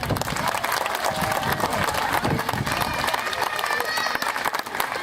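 An audience at a sea lion show at Peaugres claps and cheers steadily throughout, a dense, continuous crowd applause with some voices mixed in.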